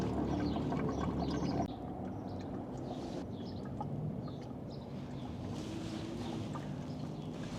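Engine oil from a Sprinter van drains through a hose into a plastic water jug during a field oil change, a steady close pouring and trickling wash with faint wind noise, no voices.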